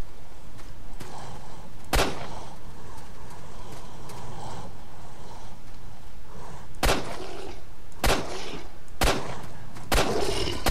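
Measured single gunshots in S.T.A.L.K.E.R. Lost Alpha, sharp loud cracks spaced seconds apart over a steady ambient rumble, the later shots coming faster near the end.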